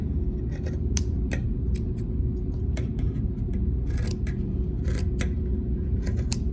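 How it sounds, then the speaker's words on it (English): Scissors snip through a T-shirt to cut it into yarn strips, a quick run of sharp, irregular cuts over a steady low background hum, close and clear. "I'm going to cut as many of these strips as I can"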